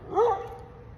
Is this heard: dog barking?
yes